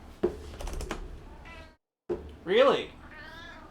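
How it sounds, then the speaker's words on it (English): A pet cat named Smokey meows close by, a rising drawn-out cry standing out after a short pause, with someone talking and keyboard typing around it. "You meowed at me"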